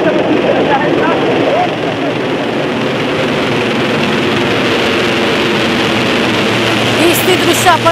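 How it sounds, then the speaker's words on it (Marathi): Chief minister's helicopter landing at a helipad in the Raymond grounds in Thane, a loud, steady rotor and engine roar with a broad rushing wash, continuous throughout, with crowd noise beneath. "काही वेळातच मुख्यमंत्र्यांचं हेलिकॉप्टर ठाण्यातील या रेमंडच्या परिसरामध्ये लँड झालं"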